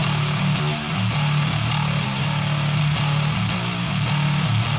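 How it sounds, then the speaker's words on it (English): A chainsaw sound morphed with a lawnmower engine into a synthesized guitar tone gives a loud, grinding, nasty bass drone that wavers in pitch and stays continuous throughout. "All of a sudden, we have this tremendous, grinding, very nasty tone."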